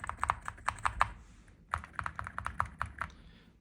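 Clacky typing on a mechanical keyboard fitted with MOA profile keycaps, a quick run of bright, close keystrokes, a short pause, then another burst, with no talking.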